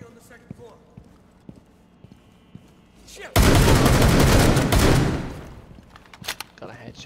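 Loud burst of gunfire in Rainbow Six Siege, a dense roar of shots lasting about two seconds after quieter game sounds and scattered taps, then fading back to low ambience.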